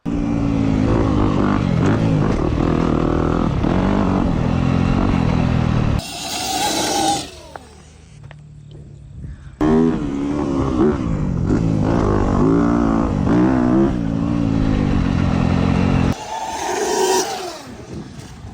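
Loud whining hum of an electric dirt bike riding nearby, rising and falling with speed, broken by rough gusts of wind noise and brief quieter gaps.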